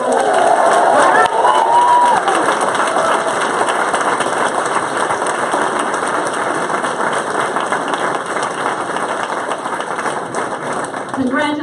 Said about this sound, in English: I would like you to cheer and yell and scream and clap as loud as you can